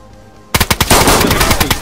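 Automatic gunfire in the video game DayZ erupts suddenly after a quiet moment, a loud rapid burst of shots close by, with no talking.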